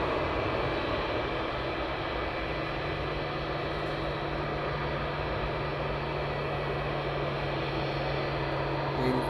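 A FedEx aircraft taxis toward its parking stand at East Midlands Airport, producing a steady, broad engine drone with a low sustained hum, loud and unbroken throughout, with no voices.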